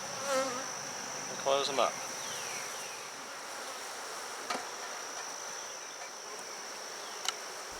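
Honey bees hum softly at an open hive as combs are pushed together, a thin steady drone with a few light knocks and brief scraping, and a voice speaks briefly at the start.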